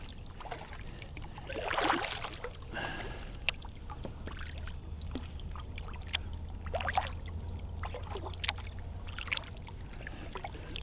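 A kayak paddles on Tennessee's Emory River, with soft splashes and water swishes from the paddle strokes at irregular intervals, a few small knocks, and a low background hum.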